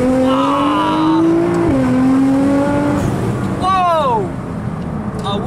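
Nissan GT-R with 700 hp accelerating hard, loud close engine whine climbing through gears with sharp shift drops and a final rising rev, heard from inside the car.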